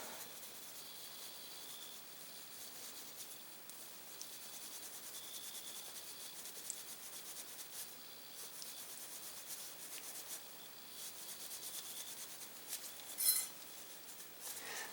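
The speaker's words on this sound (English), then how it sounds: "Put a little oil on that. Hit it with the steel wool." Steel wool with a little oil scrubbing rust off the metal of a Remington 870 Express shotgun, a faint, steady rasping rub that continues throughout with one slightly louder scrape near the end.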